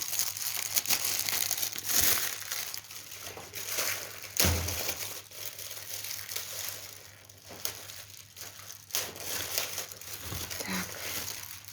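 A plastic bag crinkles and rustles steadily up close as it is pulled off a potted anthurium plant, with occasional sharper crackles.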